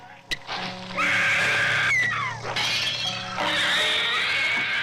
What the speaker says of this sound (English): Is that a pig screaming?